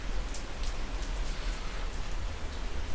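Steady heavy rain falls during a typhoon as a dense, even hiss that continues without a break, with occasional nearby droplet patter. No voices are heard.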